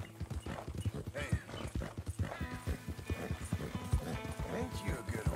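Horse hooves clip-clop steadily in Red Dead Redemption 2, a continuous rhythmic trot of close, crisp footfalls with a voice talking over them.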